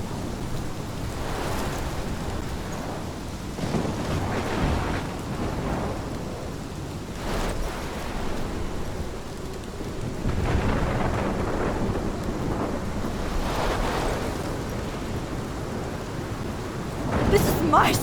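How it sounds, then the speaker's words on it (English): A storm with heavy rain and rolling thunder from the video game Life is Strange, a constant downpour hiss broken by repeated deep thunder rumbles and crashes, loud and close. "This is my storm."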